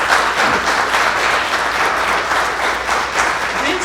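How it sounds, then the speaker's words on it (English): Audience at a community dinner and discussion event applauds steadily, a dense, loud wash of many hands clapping at an even level throughout with no voices on top. "Please, give them a round of applause."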